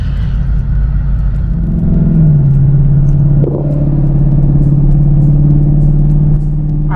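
From inside a moving Ford Mustang, the engine gives a steady low rumble. Around two seconds in, its pitch drops and settles into an even drone, with no talking.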